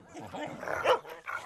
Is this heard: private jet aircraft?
no